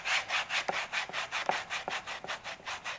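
Rhythmic hand sanding, steady back-and-forth scratchy strokes of sandpaper on a wooden kukri sheath, close and fairly loud, with no voices.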